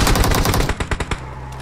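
Rapid automatic gunfire from a PUBG Mobile match, a dense burst of close shots followed by a few spaced, separate cracks as the firing tapers off.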